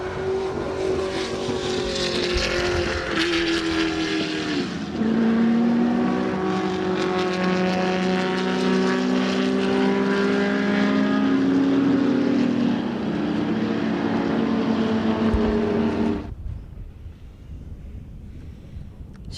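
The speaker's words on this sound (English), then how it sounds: "So Larry Wolford will dictate the pace once that Toyota Corolla Gazoo Racing hatch pulls off the circuit" Race car engines on a circuit, including a Porsche and a Toyota Corolla Gazoo Racing hatch, roar loudly and continuously with rising and shifting pitch as cars pass, then cut off abruptly near the end.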